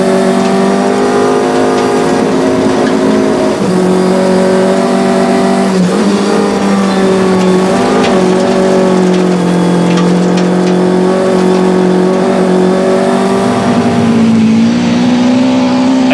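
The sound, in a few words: Nissan rally car engine revving, South Africa rally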